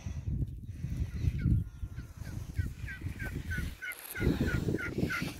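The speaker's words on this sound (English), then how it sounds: "Here's all the little ducks." Several ducks, including ducklings, call repeatedly in quick, chirping honks over a noisy background of rustling and movement, some close and some a bit farther off.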